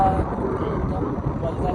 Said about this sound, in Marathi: तर हा बघा विमानाचा आवाज येतो.